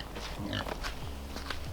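Pigs grunting and oinking outdoors on moving day with no fence, several low short grunts spread unevenly through the clip at moderate distance, and a brief sharper noise at the very end.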